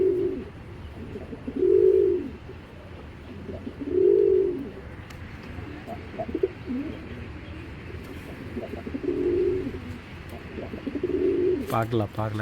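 A female pigeon coos close by in low, rolling bursts, repeated several times with pauses between them, over a soft background hum.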